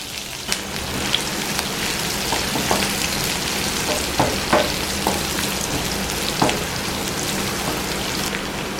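Finely chopped large onion frying with mustard seeds in hot oil for a brinjal dish: a continuous crackling sizzle with scattered sharp pops and occasional stirring clatter, close and fairly loud.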